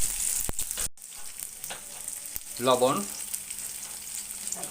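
Chopped onion and green chilli sizzle in hot frying oil, a continuous hiss broken by a brief pause, with a short spoken word partway through.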